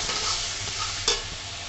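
A little water stirred into simmering rajma curry in a pan, a close continuous sizzle and bubbling with one brief scrape of the spoon near the end.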